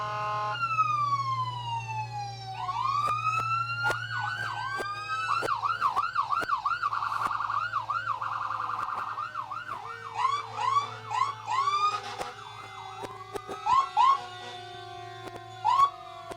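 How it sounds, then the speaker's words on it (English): Emergency vehicle sirens from police, rescue squad and EMS units rolling in a Christmas parade wail and yelp in overlapping, rising and falling sweeps, loud and continuous throughout, with short whoop bursts and a steady low engine rumble beneath. "So it's a little hard to talk over the sirens."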